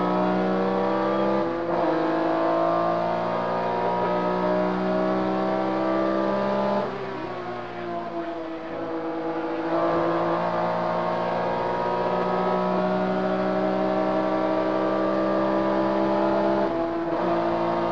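Vintage Porsche race cars at Rennsport Reunion roar past continuously, engines droning loud and steady with shifting pitch as they accelerate, a brief dip midway as one passes.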